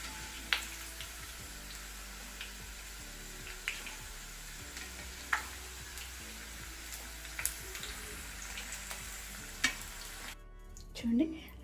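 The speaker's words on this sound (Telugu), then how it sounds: "అన్నీ కూడా ఇలా వేయించేసుకొని పెట్టుకోవాలి" Okra (bhindi) shallow-frying in a pan for bhindi masala, a low steady sizzle with a few sharp spatula taps and scrapes against the pan, no voices.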